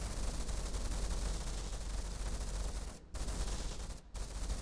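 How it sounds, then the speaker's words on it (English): CRAM cannon firing during a video game battle, a dense continuous rattling barrage of rapid shots, broken by two brief gaps. "it is still firing, it is still hitting"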